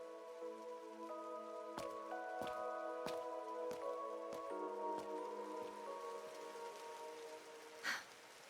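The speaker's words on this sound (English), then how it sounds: "Why'd it have to rain?" Steady rainfall from the video game Trails Through Daybreak patters continuously, with a soft sustained music bed underneath and a series of sharp, evenly spaced thuds cutting through the downpour.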